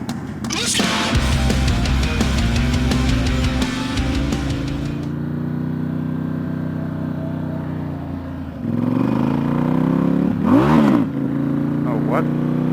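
A Ducati XDiavel S motorcycle accelerates on the road, a loud near engine climbing steeply in pitch through quick rising revs, then easing off to a lower drone before revving again, with a rider talking.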